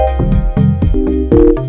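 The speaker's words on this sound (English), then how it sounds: "Very simple sine wave based." Simple sine-wave synthesizer with no FM and echo added, playing a short run of soft, round notes that glide between pitches, loud and clean with no bright overtones.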